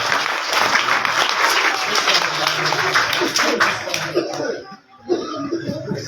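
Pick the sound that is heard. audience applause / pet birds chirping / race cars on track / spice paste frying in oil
audience applause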